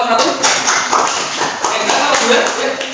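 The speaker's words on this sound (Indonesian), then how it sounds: "tepuk tangan untuk kelompok 1" A classroom group claps for about three seconds, with quick sharp hand taps at an irregular rhythm over a busy room background and some talk.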